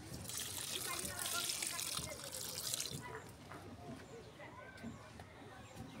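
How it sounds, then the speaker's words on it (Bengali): Water poured onto young garden plants, a splashing, trickling gush that is loudest for the first three seconds and then fades to faint dribbles, with a person speaking over it. "কেবলা গাছগুলোর ভিতরে পানি দিই।"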